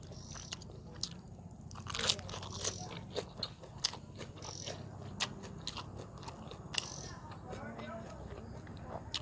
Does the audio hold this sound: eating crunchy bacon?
yes